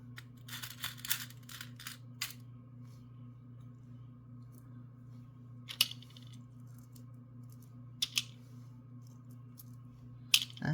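Metal jewelry head pins are picked out of a small container, making faint, sparse metallic clicks and tinkles: a cluster early on, then isolated clinks spread apart against a quiet, humming room.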